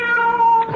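A cat gives one short, loud, close, tonal meow in a radio drama, on its own with no talking.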